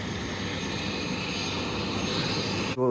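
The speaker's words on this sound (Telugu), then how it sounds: "ఇక్కడికి హెలికాప్టర్ కూడా వస్తుందండి చూసుకుంటే ఇప్పుడే వచ్చింది" A helicopter arriving at Annapurna base camp in the snowy Nepal Himalaya, its engine and rotor roaring loud and close as a steady, unbroken drone before cutting off abruptly at the end.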